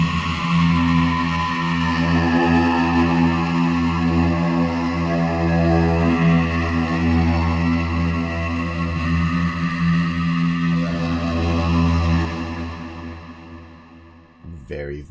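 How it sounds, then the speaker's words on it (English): Deep, slowed vocals pitched down an octave drone on in a dark, murky tone, sustained and loud before fading out near the end. "took these vocals and pitched them down a whole octave"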